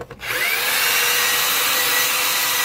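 A power drill driving a pump to fill a donkey trough whirs up to speed and runs steadily at a high, loud pitch, close by, with a faint rubbing undertone.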